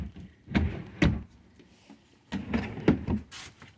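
Deep full-extension dresser drawers in a 2022 Cardinal RV sliding open and shut, two pairs of soft rolling thuds and bumps, close and moderately loud, with no voices.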